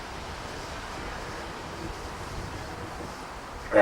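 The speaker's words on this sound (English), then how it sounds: "That cold wind starts to bite." Cold wind blows steadily outdoors at a waterside race event, a continuous broadband rush with buffeting on the microphone and a sharper gust at the very end, with no talk.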